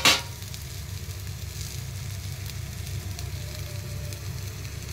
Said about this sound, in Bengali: তেলটা যখন একটু গরম হয়ে যাবে তখন তার মধ্যে দিয়ে দিলাম একটু রসুন আর একটু আদা।